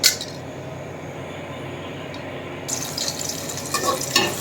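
Ghee heating in a pot with bay leaves and whole garam masala spices for pulao, a steady soft sizzle that grows busier with crackles and a clink toward the end.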